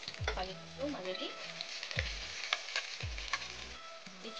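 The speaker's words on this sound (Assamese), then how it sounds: "এইখিনি আমি অলপ ৰঙচুৱা হোৱাকৈ ভাজি ল'ম।" Chopped onions and green chilies frying in a pan, a close sizzle broken by a few stirring scrapes and a faint voice in the background.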